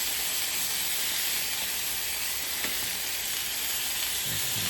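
Marinated salmon with a brushed-on glaze sizzles steadily under a broiler, a constant dense frying hiss with faint crackles and no break across the whole stretch.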